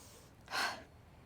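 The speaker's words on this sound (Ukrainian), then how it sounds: "Довгий, повільний вдих і видих різкий" A single sharp, forceful exhale through the nose during pranayama breathing practice, close and clear, lasting about a third of a second against quiet room noise, with no talking.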